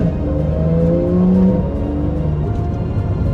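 A 2013 Porsche 911 Carrera S with a 3.8L engine and PDK gearbox accelerates gently from inside the cabin, its engine note droning and climbing in pitch before easing back, loud and close without any voices.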